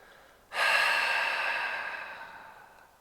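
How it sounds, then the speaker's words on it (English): A single long, audible exhale during a yoga session, starting abruptly and fading gradually over a couple of seconds, close and alone. "Audible exhale, let it go."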